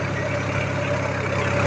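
A tractor engine runs steadily in high first gear while ploughing a soft maize field at about 1200–1300 rpm, giving a continuous low, even drone that stays close and loud without a break.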